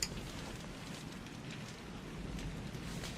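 Rain falling steadily outdoors, a soft, continuous hiss and patter, faint and even throughout with no voices.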